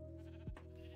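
A single short sheep bleat from a dyed sheep in a video game plays once near the middle, over a steady background music or ambient drone.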